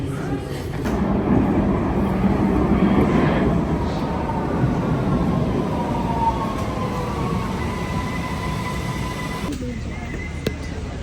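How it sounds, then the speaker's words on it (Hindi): At Keplerplatz station on the Vienna underground metro, a train rumbles in, a loud sustained roar with a rising whine and rail screech that fades near the end, while voices murmur on the platform. "चलिए आएगी अपनी ट्रेन अब।"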